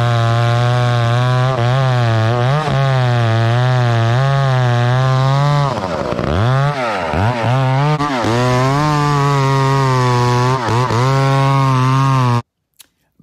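A Husqvarna 592XP chainsaw cuts into a huge leaning cedar tree, a loud, steady high-pitched engine whine that bogs and dips in pitch midway through the cut, then stops abruptly near the end.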